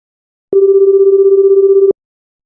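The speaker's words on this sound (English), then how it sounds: "So he picked up his phone and called Chloe to see if she wanted to watch a movie together" A telephone line tone sounds while a call is placed, a single steady loud electronic tone holding for about a second and a half, with no voices over it.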